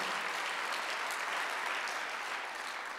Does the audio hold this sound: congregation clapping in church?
yes